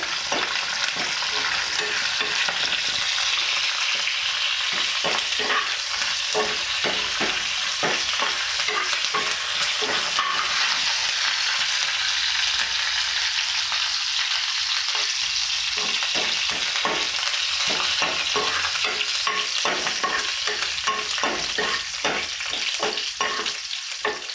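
Okra fries in hot oil in a pan, a continuous bright sizzle broken by repeated scraping stirs in an uneven rhythm, close and fairly loud, with no talking.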